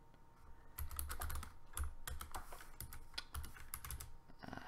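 Keystrokes on a computer keyboard, irregular bursts of crisp clicks with short pauses between, close and fairly quiet.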